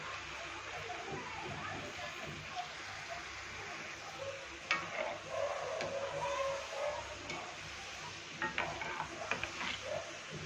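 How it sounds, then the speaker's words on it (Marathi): Modak fry in hot oil with a continuous low sizzle and bubbling, punctuated by occasional light clicks and scrapes of a utensil; background voices murmur faintly. "तर आता आपण बाकीचे पण मोदक चांगले तेलामध्ये फ्राई करून घेऊ।"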